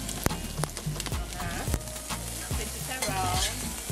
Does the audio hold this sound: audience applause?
no